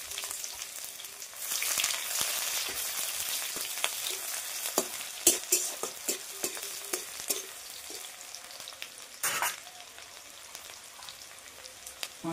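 Onion, slit dried red chili and curry leaves frying in hot oil for a drumstick-leaf dal, a loud close crackling sizzle with repeated spatula stirring and scraping strokes, no voices.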